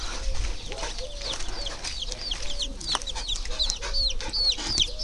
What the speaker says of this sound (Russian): Ладно, Тимоша, пойду забирать того цыпленка.